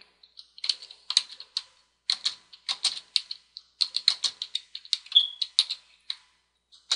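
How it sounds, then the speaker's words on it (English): Someone types on a computer keyboard in quick irregular bursts of crisp clicks, close and clear against silence, pausing briefly between runs of keystrokes. "press the tab key one time on your keyboard"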